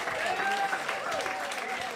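Audience applause at an evening gathering, a brief, fairly quiet burst of clapping and crowd noise lasting about two seconds, with voices mixed in.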